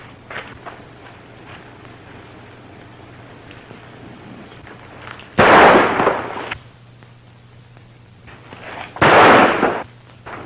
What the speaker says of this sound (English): you think that shot was meant for me?